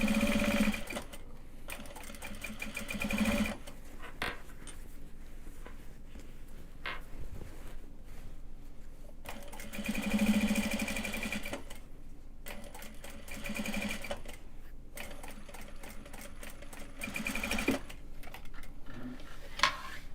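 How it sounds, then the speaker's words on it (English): A domestic sewing machine stitches Japanese fabric bags in quick rhythmic runs, pausing and restarting several times, close and steady with no talk. "That is the last of the sewing for tonight."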